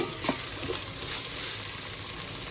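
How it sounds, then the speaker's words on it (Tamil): Ginger garlic paste sautés in a pan for a chicken fry, giving a steady, even sizzle close to the ear with no talk over it. "இப்போ நம்ம இஞ்சி பூண்டு விழுது நல்லா வதங்கிடுச்சு பாருங்க"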